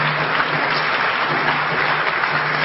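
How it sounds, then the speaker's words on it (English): An audience at a history lecture applauds, a sustained full round of dense clapping that stays even throughout. "So give yourself a round of applause."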